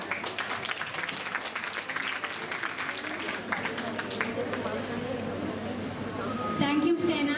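Audience applause rings out at a Republic Day patriotic song and dance competition, scattered hands clapping in a lively rhythm that thins out as a voice begins speaking over the end and a tone briefly sounds.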